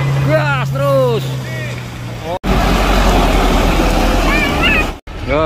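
A Mitsubishi Canter truck engine revs hard under throttle, a loud close roar with rising and falling pitch sweeps, briefly cutting out twice before surging again.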